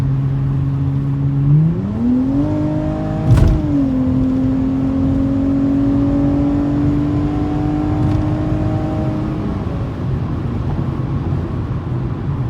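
A 2018 Dodge Challenger SXT with Magnaflow exhaust revs up, engine pitch climbing sharply and then holding a high, steady drone for several seconds before easing off, loud and close throughout.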